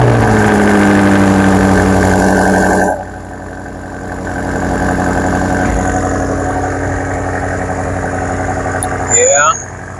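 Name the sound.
2020 BMW X6M Competition V8 engine idling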